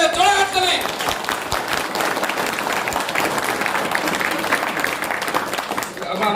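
Loud, sustained applause from a workshop audience on Moringo Organics in Mirik, dense clapping filling the whole stretch with some crowd noise mixed in.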